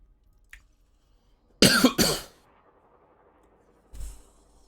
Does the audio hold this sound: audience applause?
no